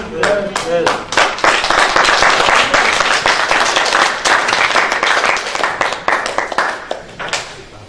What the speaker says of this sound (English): You guys clapped and I forgot what to say after.